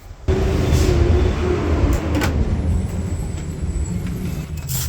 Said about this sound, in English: And the garbage truck is here.